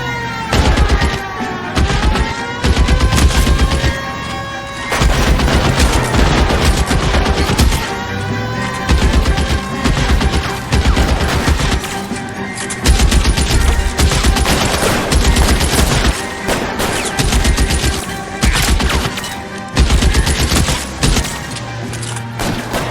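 Dense, loud gunfire fills a shootout in the video game L.A. Noire, with rapid overlapping shots and bursts in irregular rhythm, continuous for the whole stretch and heard without talk.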